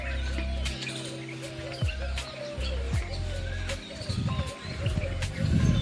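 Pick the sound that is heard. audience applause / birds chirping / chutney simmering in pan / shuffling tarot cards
birds chirping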